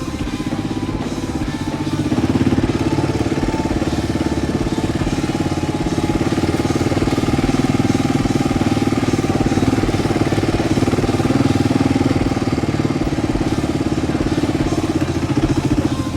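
A Kawasaki motorcycle rides in first gear along a rutted, sandy track, its engine droning steadily and loudly close to the rider with a constant, slightly rough mid-pitched note and no pauses.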